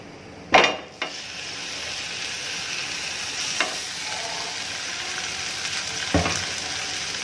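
Fish fries in coconut oil on a tawa, a constant close-up sizzle broken by a few sharp clanks of the pan or utensil.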